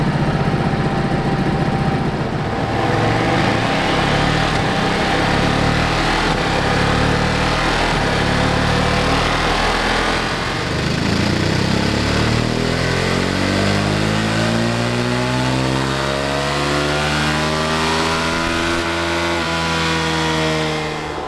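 A Ducati Monster 937 motorcycle engine runs on a dyno, held loud and steady before climbing through long rising revs, with the pitch sweeping upward continuously over about twenty seconds.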